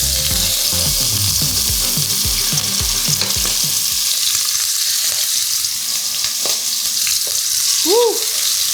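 Chicken thighs brown skin-side down in a pan. A loud, dense sizzle runs the whole time, with some scraping and rhythmic stirring early on, and it settles into a steadier fry later.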